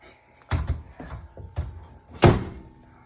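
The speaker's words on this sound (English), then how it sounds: "Close the door." A microwave door swings shut with a few close, solid thunks, the loudest and final one landing firmly near the end, in a quiet kitchen.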